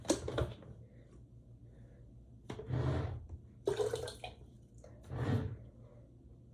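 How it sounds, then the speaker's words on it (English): Water is poured into a cup in several short bursts of splashing and trickling, close by and fairly quiet, separated by pauses and handling noise. "We're gonna fill the first one 3/4 with water."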